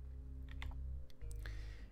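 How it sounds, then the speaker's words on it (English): Computer keyboard typing heard as a run of light, irregular key clicks over a steady low background hum, with a short pause partway through before the keystrokes resume. "So what I'm typing out here"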